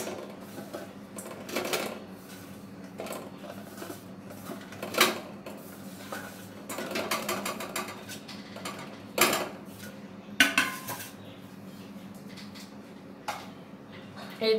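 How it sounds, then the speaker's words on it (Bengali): Sun-dried raw mango pieces for a sour pickle drop into a small bowl, giving scattered light clinks and knocks at irregular intervals over quiet room tone. "আমি একটা ছোট গামলি নিয়ে নিয়েছি, এরপর আমি রোদে শুকিয়ে রাখা আমগুলো"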